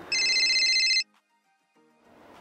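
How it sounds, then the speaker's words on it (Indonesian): A phone ringtone trills loudly for about a second as a steady electronic warble, then stops, followed by near silence and faint low sounds. "Wah, ada telepon nih."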